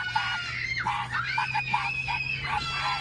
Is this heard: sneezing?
no